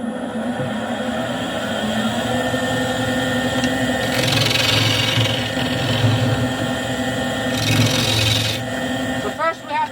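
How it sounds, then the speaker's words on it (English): Hollowing a round-bottomed wooden bowl, with a continuous harsh scraping and rasping of a tool against the wood, close and loud, swelling in intensity twice. "now, we have to get this hollowed to get a recess to be able to sand and finish the outside"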